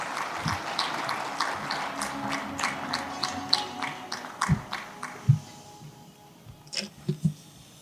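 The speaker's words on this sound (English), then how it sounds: "A round of applause for Professor Quirion, please." Scattered applause at a plenary session of a science-policy meeting, individual claps audible within a modest crowd, tapering off after about six seconds into quieter room noise with a few thumps.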